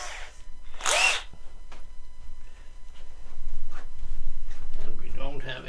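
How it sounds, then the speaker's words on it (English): A short burst of a power drill whirring for about a second, close by, drilling between glued parts of a trebuchet, followed by quieter handling noises and someone talking. "Because I'm gonna drill"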